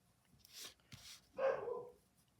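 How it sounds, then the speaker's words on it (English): A pet dog barks a few times nearby during a quiet indoor drawing session, with short sharp yelps and a longer whining bark toward the end, heard alone without talk. "Oops, excuse my dog."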